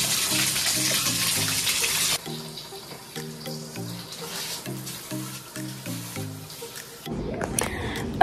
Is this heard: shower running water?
yes